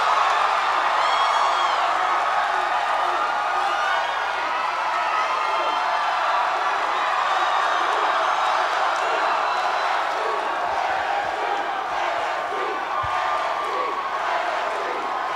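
A large crowd at a MAGFest concert cheers and whoops in a steady, dense roar that fills the whole stretch, with scattered claps and shouts rising out of it.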